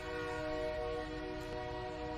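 A train sounds a steady, sustained horn as it begins pulling out of a station, a loud even tone over low rumble, with no talking.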